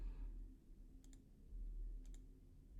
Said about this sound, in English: you can actually even click on them